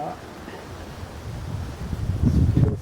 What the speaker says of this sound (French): Que le vent se calme.